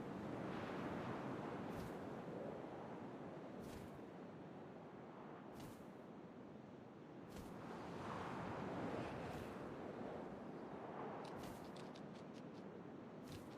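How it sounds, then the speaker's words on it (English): Steady windy rush in the video game What Remains of Edith Finch, a broad continuous gust that swells and eases across the scene, with a few faint ticks and a brief bright chirping near the end. "First, all I heard was the wind."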